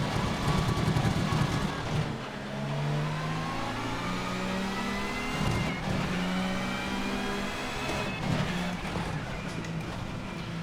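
A race car in Assetto Corsa launches off the start line at Donnington, its engine revving hard through rising gear pulls with short dips at each shift, loud and close, with no talk.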